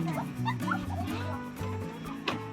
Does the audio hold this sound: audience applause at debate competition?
no